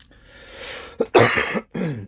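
A single person coughs a few times, close and loud, with short harsh bursts separated by brief pauses and no talk over it.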